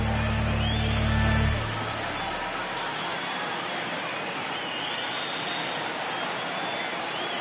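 Stadium crowd in MLB The Show 19, a Dodgers versus Marlins baseball game, roaring steadily with broad cheering on a full count, a brief low rumble at the start before the sustained wash of crowd noise continues.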